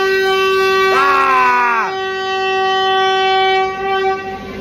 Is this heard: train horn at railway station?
yes